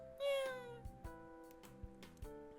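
Two cats meowing inside a room in the Dandelion: Wishes Brought to You game, one clear rising meow up front followed by softer mewing and light thumps, over quiet background music.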